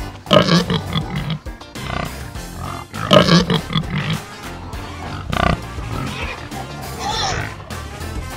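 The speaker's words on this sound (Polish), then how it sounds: "Świnia chrumka." A pig oinks and grunts in a farm-animal setting, with short snorting bursts recurring throughout at close range, mixed with other farmyard noise.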